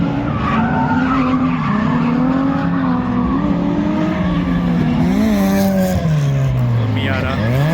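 A Fox body Mustang drifts at a drift event, its tires squealing in long wavering howls that rise and fall over the engine's roar, loud and close throughout.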